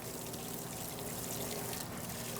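Hot water pours in a steady, continuous stream for a couple of seconds, a fairly close, even rushing splash with no voices over it.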